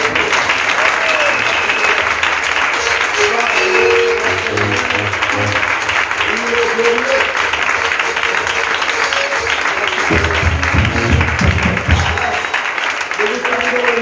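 A church congregation applauding during a French-language worship service, steady loud sustained clapping from many people throughout, with a voice speaking over it and brief low thumps near the end.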